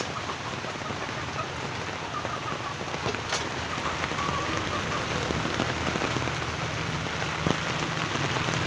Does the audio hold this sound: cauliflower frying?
no